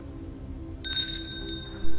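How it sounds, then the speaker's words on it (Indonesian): A queen's hand bell rung to summon a consort in a period drama, giving a single bright, clear ring that sustains for nearly a second over a low background hum. "sang ratu membunyikan lonceng agar selirnya datang"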